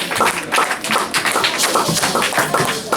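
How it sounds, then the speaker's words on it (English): A congregation claps at an afternoon service, brisk uneven hand claps filling the room at close range, loud and continuous with no speech over them. "Let's give him another round of applause."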